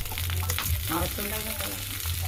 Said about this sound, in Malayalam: എന്നിട്ട് നമുക്കൊന്ന് ചെറുതായിട്ടൊന്ന് ഇളകി കൊടുക്കാവേ